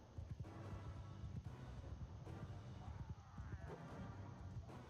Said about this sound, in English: my horse is moving pretty fast now